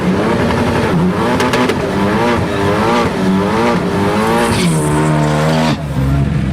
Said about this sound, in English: At number 5, we have the Ford Focus ST.